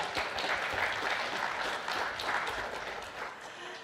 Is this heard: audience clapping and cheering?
yes